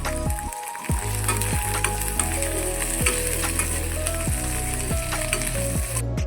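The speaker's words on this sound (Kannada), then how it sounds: "ಸ್ವಲ್ಪ ಜಿಂಜರ್ ಗಾರ್ಲಿಕ್ ಏನಿದೆ ಅದನ್ನು ಕೂಡ ಸೇರಿಸ್ಕೊಂಡಿದ್ದೀನಿ." Ginger garlic sizzling in a hot pan while paneer, methi and matar masala is cooked, a steady close fry with occasional stirring scrapes.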